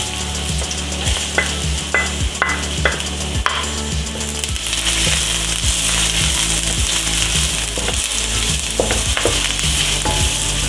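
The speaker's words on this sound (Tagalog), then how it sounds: "First, igisa natin ang onion at garlic." Onion and garlic sauté in a pan with a loud steady sizzle, while a utensil scrapes and stirs in repeated strokes, clustered early and then more scattered.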